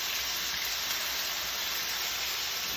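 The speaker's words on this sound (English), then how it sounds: "We're just gonna saute these, and I saute everything like this on high." Food sautés in a pan over high heat, giving a loud, steady, unbroken sizzle with no voices.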